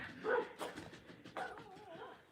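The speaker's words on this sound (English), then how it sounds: "that's Noodles talking to some other dogs. They do that every time this year." Dogs barking back and forth outdoors during a walk, a few sharp barks and yips close by with whimpering tones, trading calls with other dogs in the distance.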